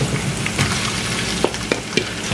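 Thinly sliced small onions fry in oil with ginger and garlic for a restaurant-style masala dal, giving a steady, close sizzling hiss punctuated by a few sharp pops and crackles, with no talking.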